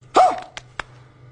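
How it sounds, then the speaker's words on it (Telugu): Dogs play outdoors at night during a ghost hunt in Nellore, with one loud, close bark followed by two short, sharp yips over a low steady hum. "కుక్కలు ఆట ఆడుకుంటున్నాయి."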